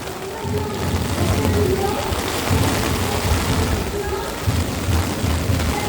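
Steady rain falls and patters throughout, a dense hiss that stays fairly loud from start to finish with no talking.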